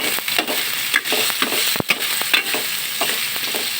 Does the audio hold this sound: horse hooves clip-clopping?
no